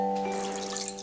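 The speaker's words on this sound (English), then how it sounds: "wet your hands with warm water" Warm tap water runs steadily from a faucet as hands are wetted at a sink, a soft continuous splashing hiss.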